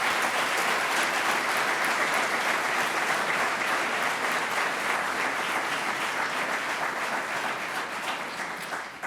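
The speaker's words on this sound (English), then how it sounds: "Let's give them and the first employees of NROC a big round of applause." Audience applause during a 2017 State of the City address: dense, continuous clapping from a large crowd, sustained at full strength and easing slightly toward the end.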